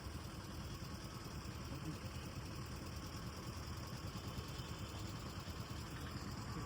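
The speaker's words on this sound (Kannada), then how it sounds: "ತುಂಬಾ ಟ್ರಾಫಿಕ್ ಇದೆ ನೋಡಿ" Vehicle engines idle in heavy city traffic as a low, continuous, fairly faint rumbling hum with no pauses or voices.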